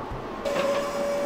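An elevator in the video game Marathon 2 Durandal starts up with a steady, loud mechanical hum and a sustained whine over a noisy background, running continuously after a quieter opening.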